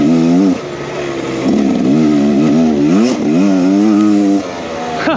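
A 2023 Beta X Trainer 300 enduro motorcycle ridden on dirt trails at a nickel mine, its two-stroke engine close and loud, rising and falling through repeated throttle pulls as it chugs along.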